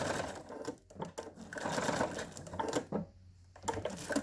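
Sewing machine stitching back and forth to backstitch, close and fairly loud in short rattling bursts separated by brief pauses.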